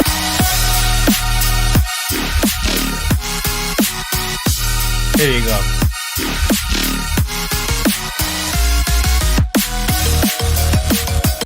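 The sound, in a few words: A drum and bass track played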